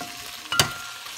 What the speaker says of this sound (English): So it's coming nicely, frying up nicely.